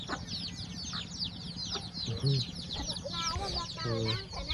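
Chickens and ducks cluck and call repeatedly at a Thai farmyard pen, fairly close and continuous over steady background noise, with several short squawks standing out.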